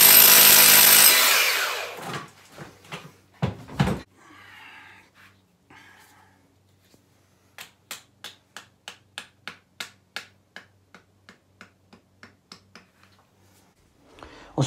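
A power drill bores a 14 mm hole into brick to anchor a wall-hung toilet frame, starting with a loud burst of drilling, then a series of sharp rhythmic clicks and knocks in quick succession.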